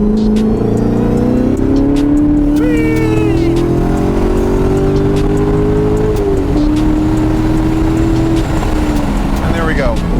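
A Chevrolet C7 Corvette with over 400 horsepower accelerates hard in third gear out of turn 3 on a race track, its loud engine droning and climbing in pitch, dipping briefly once before pulling on.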